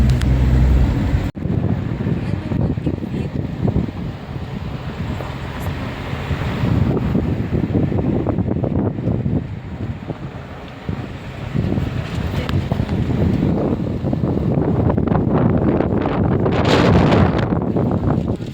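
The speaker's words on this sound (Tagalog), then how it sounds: "Yung hangin." Steady roadside wind buffets the microphone along a road past trees and a small waterfall, a continuous low rumble with gusts that swell toward the end and no voices.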